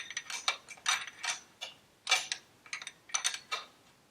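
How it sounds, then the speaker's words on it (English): A valve adjuster nut is cranked on a Harley Panhead engine, giving quiet, close metallic clicks and ticks in an irregular rhythm of small bursts. "all I got to do is hold the lock nut on the bottom and crank the adjuster nut up."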